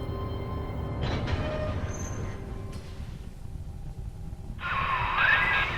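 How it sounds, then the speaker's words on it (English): A train ride in BioShock 2, a low rumbling clatter of the rail car rolling along that dips and eases midway, then a bright squealing screech as it brakes or rounds a bend. "He made his decision, then boarded the train, heading to Fontaine Futuristics"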